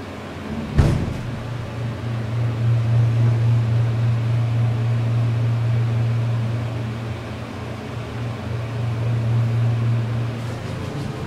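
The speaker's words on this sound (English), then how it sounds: "Carefully listen to the motor." Westinghouse hydraulic elevator modernized by Miller, in a Sears/Kmart mall store, its motor running with a steady low hum under a constant whir, preceded by a single click near the start, no speech.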